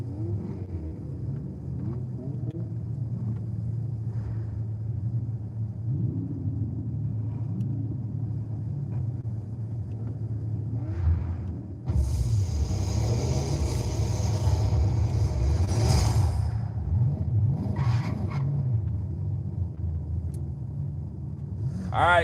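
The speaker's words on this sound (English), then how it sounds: "we're in the RCF V8 5-liter, I'm pretty sure" In Forza Horizon 5, a Lexus RC F with a 5-liter V8 rumbles at a low steady idle, then its engine rises louder and harsher partway through, with voices talking over it.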